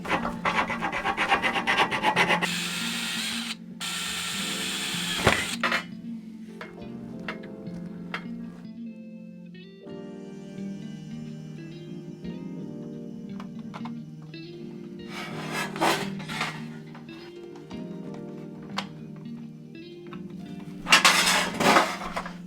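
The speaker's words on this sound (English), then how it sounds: "I'll get the file and just finish that off so we have a nice little cutout." Rhythmic rasping strokes of a hand file scrape against an Atari 520STfm case, finishing a cutout, coming in bursts with pauses and occasional clinks, close and fairly loud, with no voices.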